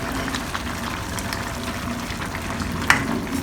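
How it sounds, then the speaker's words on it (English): Potatoes and minced pork simmering in a pan as light soy sauce goes in, a constant close bubbling sizzle with one brief sharper splash near the end. "I'm going to add in 2 tablespoons of light soy sauce now."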